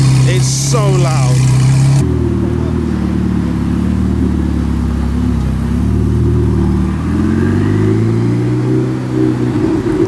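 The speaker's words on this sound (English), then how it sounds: "I don't even think you can hear me with the custom exhaust on this thing." Ford McLaren 765 supercar with a custom exhaust roars close by, its loud engine note rising and shifting steadily over the whole stretch, after a brief moment of speech at the start.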